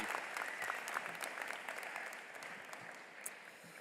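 Audience applause at a high school commencement in a large convention center, a faint, dense, continuous wash of clapping from a big crowd heard at a distance.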